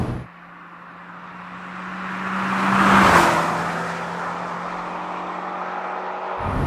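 A 2000s Toyota MR2 Mk3 roadster on its standard exhaust has its engine rise to a loud revving peak around the middle, then ease back to a steady hum with a low constant drone under it, and no talking.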